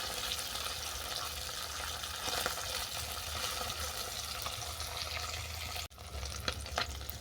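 Small puti fish frying in mustard oil in a karahi as they are turned to brown; a continuous close sizzle holds steady, dips briefly near the end and returns with a few sharper spits.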